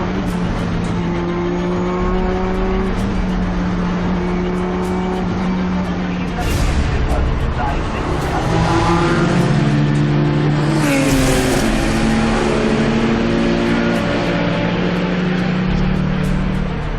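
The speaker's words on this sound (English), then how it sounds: "The car is running perfectly," A Subaru race car in a 24-hour endurance race drones steadily close by with a strong engine note that rises and shifts as it accelerates, with a narrator's voice over it.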